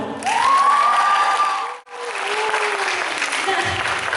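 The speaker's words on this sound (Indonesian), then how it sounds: "Tepuk tangan dong" An audience at a Youth Pledge commemoration event claps in a burst that swells, drops away briefly, then resumes. The applause is loud and near, with a voice carrying through it.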